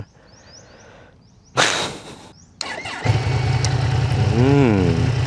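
A Yamaha MT-10 motorcycle with its stock exhaust cranks and fires up nearby, settling into a loud, rumbling idle with one quick rev swelling and falling back.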